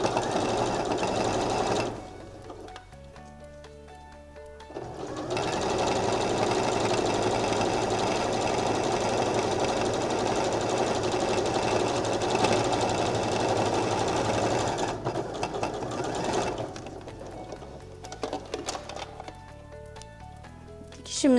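Sewing machine running a 1 mm topstitch along the edge of fabric bow pieces, a loud steady whirring that starts and stops in several long runs with short pauses between them, no voices.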